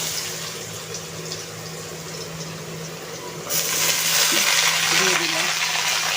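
Hot oil with dry chillies and five-spice tempering bubbles softly with a low hum before potatoes go in partway through, and the sizzle then swells into a loud, full, steady hiss.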